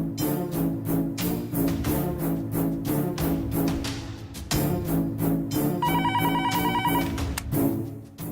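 A telephone rings repeatedly in a steady electronic pattern while a call is placed to a company, with background music underneath.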